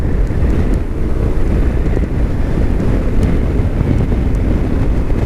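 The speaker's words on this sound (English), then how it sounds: "It's sunny, it's bloody windy" Strong gusting wind on a sunny day on South Uist, a loud steady roar buffeting the microphone throughout with no letup.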